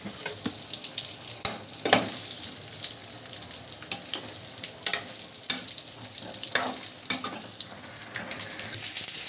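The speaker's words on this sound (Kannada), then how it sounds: "ಹೀರೇಕಾಯಿಯನ್ನು ಎಣ್ಣೆಯಲ್ಲಿ ಬಾಡಿಸ್ಕೋಬೇಕು ಲೈಟಾಗಿ" Sliced ridge gourd being sautéed in hot oil for a North Karnataka-style stir-fry, giving a steady bright sizzle with intermittent sharp clinks and scrapes of stirring throughout, close and without speech.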